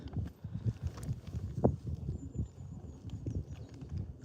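Black Friesian horses walk, hooves clip-clopping softly in an uneven rhythm at moderate distance, with a sharper knock midway and quiet ambient noise.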